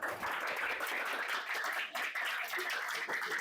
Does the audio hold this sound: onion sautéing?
no